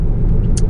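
Road traffic rolling past a car on the street, a steady low rumble of engines and tires with a brief hiss near the end.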